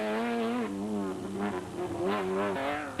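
Alfie Cox and Henita Steger's off-road race car roars past at the Sun City 400 in 2008, its engine note rising and falling through gear changes, loud and close, with a second surge of revs toward the end.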